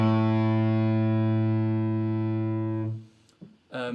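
A distorted electric guitar chord rings out thick and sustained for about three seconds, then cuts off, followed by a couple of short picked notes.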